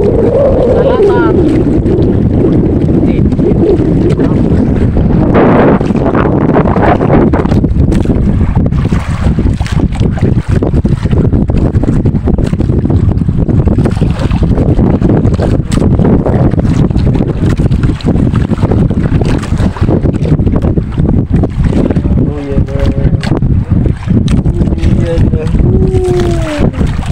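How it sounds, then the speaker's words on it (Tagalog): Strong wind blasting across the microphone on a small boat at sea in rough waves, a loud, steady buffeting roar for the whole stretch, with people talking beneath it. "Malakas ang hangin"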